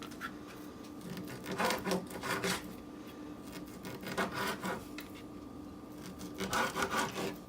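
A knife slices through fresh Italian sausage, giving three short bursts of rasping, sawing strokes against a steady faint background hum, with no talking.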